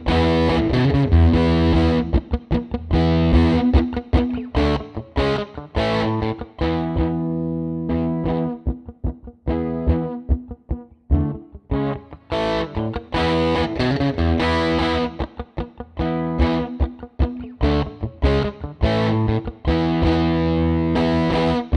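Electric guitar through a Fender '57 Bandmaster amp, with its standard Fender bass and treble tone stack: a loud, close stretch of driven, slightly distorted chords and choppy riffing with short gaps, played alone without talk.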